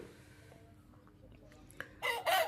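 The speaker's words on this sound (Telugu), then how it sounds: "ఈ పుంజ అయితే మాత్రం నాకు చాలా బాగా నచ్చింది" A rooster at a Sankranti gathering in the Godavari districts crows loudly and close in a single burst at the end, after a quiet stretch of faint background noise.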